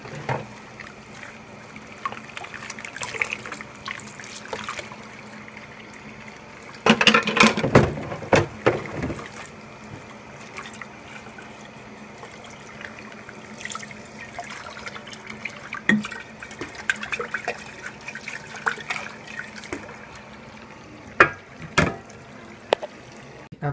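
Washed canning jars get rinsed under a running kitchen tap, giving a continuous trickle and splash with louder gushing bursts and scattered clinks of glass, close and moderately loud with no speech.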